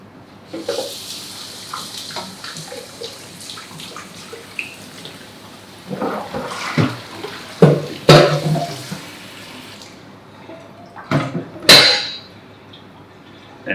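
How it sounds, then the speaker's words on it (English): Cooked German spaetzle flour dumplings are drained in a kitchen sink and rinsed under cold tap water, giving a steady running-water hiss with clinks of a pot and colander, a few louder bursts of splashing and handling near the end. "And then all you need to do is drain them off, run a little bit of cold water over the top."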